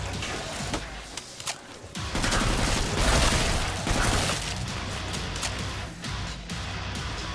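An SA80 L85A2 bullpup rifle fires in Killing Floor 2, dense bursts of rapid shots with booming impacts and crashes, loud and continuous through a chaotic game fight.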